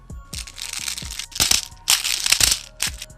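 An airsoft gas blowback magazine for an HK M27 rifle is loaded with a speed loader, giving a quick series of close plastic clicks and crunchy rattling pushes, several rhythmic bursts over a few seconds.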